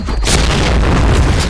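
A grenade blast in the shooter game Point Blank, one loud deep boom right after a brief lead-in, with a sustained rumbling tail that fills the rest of the moment.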